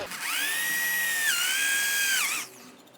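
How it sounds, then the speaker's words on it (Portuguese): A power drill bores into recycled wood for a dustpan project. The motor whines loudly and steadily, with a brief dip in pitch partway through as the bit bites, then winds down at the end. "Vou fazer 2 furos aqui antes da linha pra facilitar."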